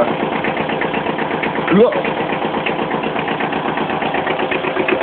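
Old Kubota engine idling after a cold start, a steady close rhythmic chugging with a knocking pulse, as someone speaks briefly over it.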